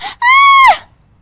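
A cartoon woman screams loudly as her sari catches fire in the kitchen, a single sustained high wail lasting about half a second after a brief shorter cry.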